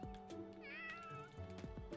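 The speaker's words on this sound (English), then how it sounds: "I can't pet the cat, but I can make it meow." A cat meows in the video game Fire Emblem: Three Houses, with one clear, drawn-out meow heard alone over steady background game music.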